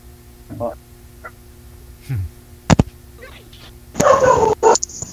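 A dog barks in a few scattered bursts, fairly close, between stretches of quiet room sound with short bits of voice.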